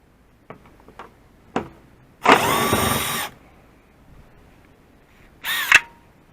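Power drill backing 10 mm screws out of a plastic undercover beneath an Infiniti, with two short whirring bursts, one around a second long and a later briefer one, separated by light clicks and taps.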